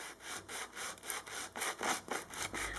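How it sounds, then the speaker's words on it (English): Sandpaper of 180 grit rubbed back and forth along a guitar fretboard during a refret, giving steady rhythmic rasping strokes, close and fairly loud, with no talk. "This is 180 grit sandpaper."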